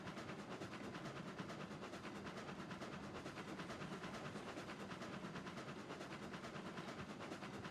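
A Eureka steam locomotive in a train video game climbs a grade, giving a faint, rhythmic chuffing and clatter that repeats steadily and quickly from start to finish.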